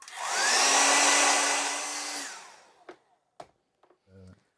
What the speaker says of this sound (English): I'm going to just use the hairdryer on this, just to speed up the process a little.